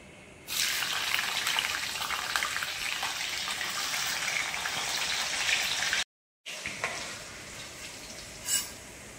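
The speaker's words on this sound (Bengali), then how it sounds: "এবার দিয়ে দেব কেটে রাখা বিনসগুলো।" Chopped green beans dropped into hot oil in a wok, bursting into a steady loud sizzle that runs on, breaks off briefly, then resumes with a small clatter near the end.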